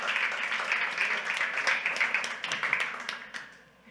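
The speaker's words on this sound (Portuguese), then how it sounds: "Dê um aplauso por esses 5" A church audience applauds five actors after a performance, a steady dense wash of clapping that holds for several seconds, then thins and fades toward the end.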